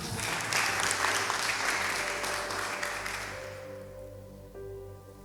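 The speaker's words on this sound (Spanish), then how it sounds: "Un aplauso para mi modelo," An audience applauds a presenter's model at a storytelling talk. The clapping is steady and fairly loud, then thins and fades out near the end, leaving faint room tones.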